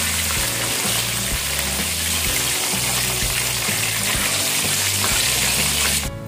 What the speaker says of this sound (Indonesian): Barusan sudah kita goreng kulit lumpianya